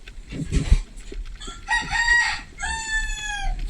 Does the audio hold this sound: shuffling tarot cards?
no